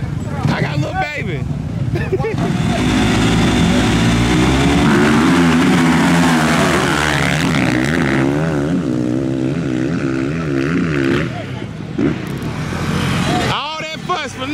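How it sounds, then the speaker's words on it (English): A 2000 Honda CR250R two-stroke motorcycle running on alcohol fuel at a drag track, its engine roaring loud and close as it revs up and holds high before cutting off, with people talking over it. "That's an alcohol bike."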